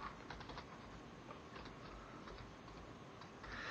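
Fingers type on a computer keyboard in a quiet room, producing soft, quick, irregular key clicks at low volume with no voices.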